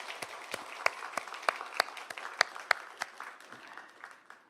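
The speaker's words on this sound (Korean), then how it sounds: "우리 박수로 환영하겠습니다" Church congregation clapping to welcome a newcomer during a Sunday worship service, a modest round of individual claps with some sharp distinct hits, fading out toward the end, no speech over it.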